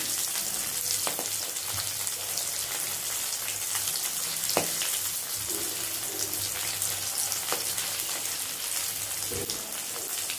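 Pieces of Chapala fish frying in hot oil, a steady crackling sizzle with scattered pops throughout, fairly close and alone without talk.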